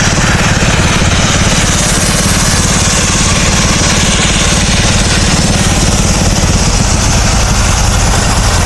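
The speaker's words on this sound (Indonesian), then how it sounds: "Jadi seperti itu cara blastingnya guys" A loud, continuous roar of high-pressure sandblasting on a ship hull at a shipyard at night, with a steady low engine drone underneath, unbroken for the whole stretch.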